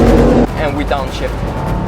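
Bugatti Chiron Sport engine dropping a gear: a steady, loud droning tone breaks off abruptly, then a rougher, fluctuating engine roar follows with brief rising pitch sweeps.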